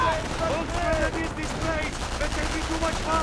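Gunfire in Company of Heroes: Opposing Fronts, a rapid fusillade of small-arms and machine-gun bursts over battlefield noise, with shouted voices in the mix.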